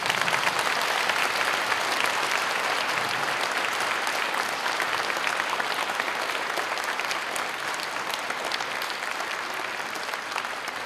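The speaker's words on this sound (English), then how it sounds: "And I think we need to give all of them a round of applause." An audience at a school Veterans Day program claps for staff and veterans, a long, steady roar of dense applause that tapers off slightly toward the end.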